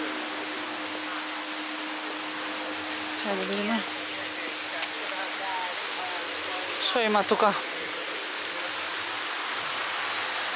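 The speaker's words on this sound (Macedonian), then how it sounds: "Ете ја реката." A river flowing through Nürnberg hisses steadily in the background, a continuous wash of water under a couple of short bursts of nearby talk.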